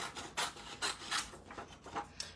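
Quiet, close rasping strokes of trimming a paper suncatcher craft, several short scraping rubs in an uneven rhythm with no voices.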